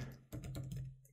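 Keystrokes on a computer keyboard, a quick close burst of soft clicks, about five taps in a row, then quiet.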